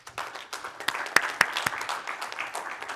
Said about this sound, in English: the whole development in China deserves a clapping.